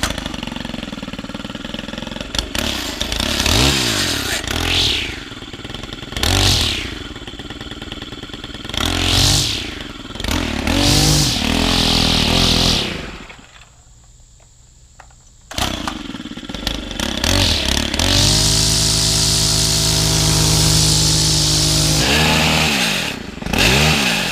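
A Stihl string trimmer with a failing gearbox in its head revs up and down repeatedly, loud and close, with a harsh rattling drone that cuts out briefly for a quiet gap before roaring back at full throttle.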